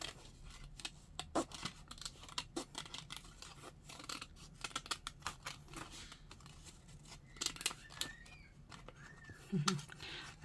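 Scissors cut out paper for a journal in quick, irregular snips and crisp rustles, close and fairly quiet, with faint high squeals in the background.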